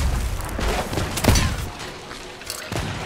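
Pirate gunfire in the Sea of Thieves video game, with several sharp, loud shots in a quick burst followed by a couple of later reports, close and mostly alone with little talk.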